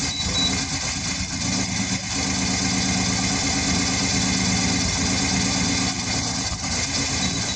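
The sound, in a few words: Yamaha Virago 250 motorcycle engine idling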